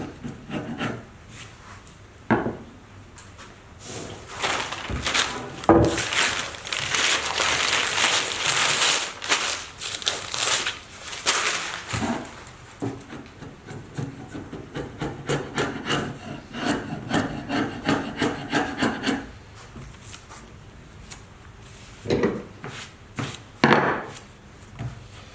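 Dried glue being scraped and rubbed off a freshly glued wooden scarf joint, a steady rasping scrape that comes in repeated strokes, some louder bursts, all close up with no talking.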